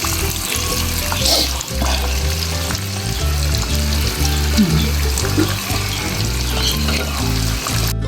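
Chicken sizzles and crackles steadily in hot oil while rhythmic background music plays throughout.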